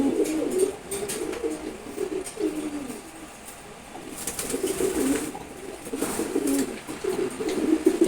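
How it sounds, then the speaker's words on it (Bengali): A very active male pigeon of the Chila breed coos in repeated low, throaty bursts with short pauses between, fairly close and clear, with a few faint chirps in the background and no talking. "খুবই অ্যাক্টিভ একটা নর কবুতর"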